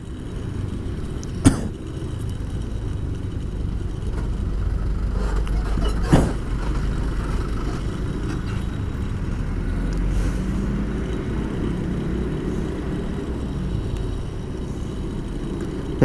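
Cars and motorcycles crawl through a heavy traffic jam on a road, a steady engine rumble filling the scene with a couple of sharper knocks early on.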